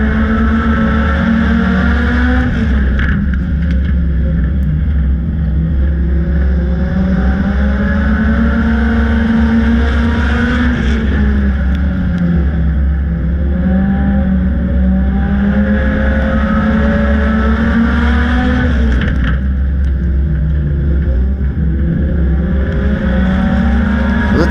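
Several dirt track race car engines drone and whine at a distance in a steady, continuous roar, pitches rising and falling as cars circle the track, with no talk over it.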